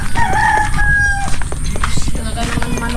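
A rooster crows once with a drawn-out, rising call over a noisy background, with faint voices and clatter around it.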